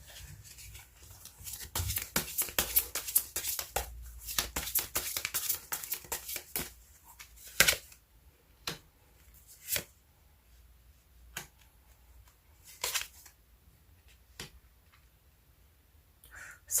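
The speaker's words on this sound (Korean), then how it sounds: "카드 먼저 뽑아보도록 할게요" Tarot cards shuffled by hand in a dense run of crisp riffling clicks and slaps for about eight seconds, followed by sparse single snaps as cards are drawn and laid down, close and fairly quiet.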